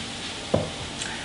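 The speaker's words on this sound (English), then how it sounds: "Ah, yes, there's that nice sizzle." Vegetable pieces, cut into half-inch cubes, drop into a hot pan with a brief thump, then sizzle in a steady, soft, crackling hiss, close by, with no talking.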